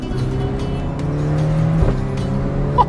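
Ferrari Portofino sports car engine revving on an open road, a steady loud drone with a brief gear-change dip and a sharp pop near the end, no talk.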